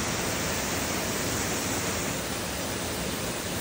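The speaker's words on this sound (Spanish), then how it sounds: "venir aquí a la cascada" A waterfall at Tonachi roars as a continuous, dense rushing hiss, loud and close, unbroken for the whole stretch with no voices.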